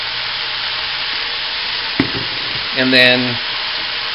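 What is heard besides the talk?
meat searing in a pan for puchero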